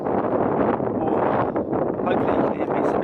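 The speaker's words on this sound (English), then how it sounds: "It's a bit windy again." Strong wind buffeting a microphone on the Isle of Man coastline, a loud continuous low roar with gusty swells, broken by brief snatches of talk.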